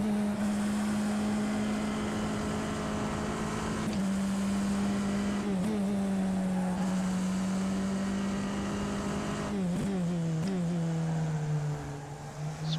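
A race car in rFactor 2 laps Zandvoort, its engine a loud, steady drone that dips and climbs in pitch as it lifts off and braking scrubs speed, then pulls again, continuous throughout with no talk.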